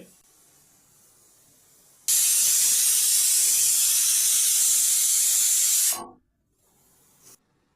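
A pressure cooker whistle blasts a loud, steady hiss of escaping steam for about four seconds, stops abruptly, then gives one faint short puff, with lau shak greens cooking inside.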